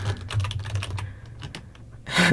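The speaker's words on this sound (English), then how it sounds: "my noisy keyboard, for one" Rapid clicking of computer keys being typed, close and steady, with a brief louder burst of activity near the end.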